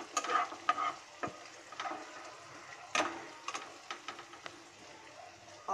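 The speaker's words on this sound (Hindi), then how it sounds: "इसे थोड़ी सी चला दूंगी मैं।" Curry leaves crackle and sizzle in hot oil in a pan while being stirred, with bright spattering pops and scraping stir strokes throughout, close and moderately loud.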